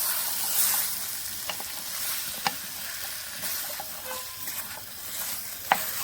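Desi chicken with potato and cauliflower simmering in a pan after a splash of water, giving a steady soft sizzle with a few sharp clinks of a spoon against the pan, close and moderately quiet.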